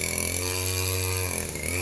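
A steady, high-pitched motor drone from a brush cutter cutting grass in a coconut plantation, running continuously, close by, with a slight dip in pitch near the end.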